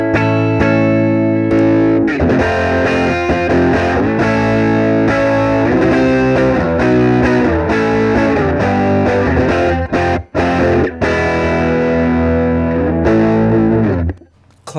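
Electric guitar played through a Harby Pedals Wasabi overdrive pedal, a recreation of the Tube Screamer TS10 circuit. Loud, close, crunchy distorted chords and riffs ring continuously, with a brief gap near the end and no talking.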